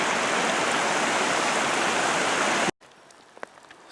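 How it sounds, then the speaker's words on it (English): Small creek running under and between snow along the Mt. Hood Timberline Trail, a loud steady rush of flowing water close by that cuts off abruptly near the end, leaving quiet outdoor ambience with a few faint ticks. "So here's our next obstacle, crossing this little creek,"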